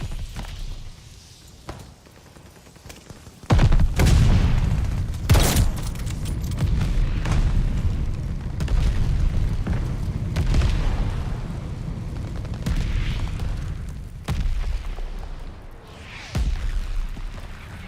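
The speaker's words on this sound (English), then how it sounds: "Friendly mortar fire coming." Friendly mortar rounds exploding across a Call of Duty Vanguard battlefield, a series of heavy booms and bursts, some near and sharp, others duller and farther off, spread over steady rumbling background noise.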